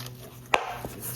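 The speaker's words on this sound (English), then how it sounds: "just knead again" Boiled dumpling dough being kneaded by hand with wet hands: one sharp, close slap of dough followed by a softer second press, over quiet background.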